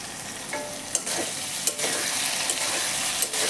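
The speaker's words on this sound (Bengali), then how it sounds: "তো এখন মশলাটাকে ভালোভাবে এটাকে মিশিয়ে" Watermelon rind being stirred with spices in a hot frying pan, giving a steady close sizzle with a few sharp scrapes and knocks of the spoon against the pan.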